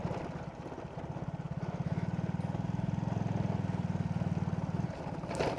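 A motorcycle labours along a rough, broken off-road highway route, its engine chugging in a fast steady pulse that holds for several seconds and then eases off, close and fairly loud.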